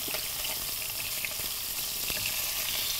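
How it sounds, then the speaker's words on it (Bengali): Koi fish frying in a pan produce a steady, close, crackling sizzle of hot oil that runs unbroken throughout, with no talking. "কই মাছ ভাজা আমাদের হয়ে গেছে।"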